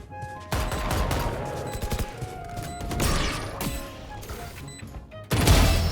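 Gunshots from a Sheriff pistol in the shooter game Valorant, a dense loud volley of shots with a sharp burst near the end and some distant game noise underneath.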